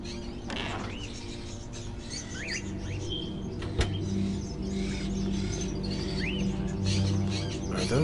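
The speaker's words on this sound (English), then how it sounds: "Are those crows in the cages?" Crows kept in cages inside a gloomy house in the video game Indigo Prophecy, heard as scattered chirps and calls over a steady low ambient drone, with a single sharp knock partway through.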